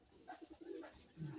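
Pigeon named Berta, a breeder with two young, giving soft low coos in a short rhythmic series, close and quiet with no talking.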